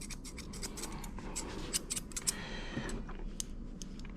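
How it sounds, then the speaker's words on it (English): Rapid snipping of grooming scissors cutting through poodle fur, quick crisp metallic clicks in irregular bursts, close and clear over a faint room hiss. "Now I can just rock and roll with scissoring and get the job done."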